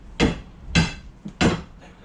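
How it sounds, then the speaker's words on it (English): A crowbar knocks on the top of a hammer while loosening wood during a major restoration: three sharp, loud metallic-wooden strikes about half a second apart, with a lighter tap between the last two, close by. "if you knock the top of the hammer now with the crowbar"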